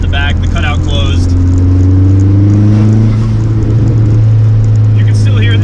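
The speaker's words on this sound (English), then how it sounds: "you do hear a lot more of the intake and a lot more of the blow off valve and the turbo" A Dodge Neon SRT-4 engine rumbles loudly with a rising turbo whistle and intake whoosh, ending in brief hissing bursts from the blow-off valve venting.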